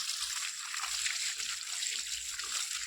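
Water pours and splashes in a steady, continuous stream, with soft low thumps beneath the rushing flow and no voices.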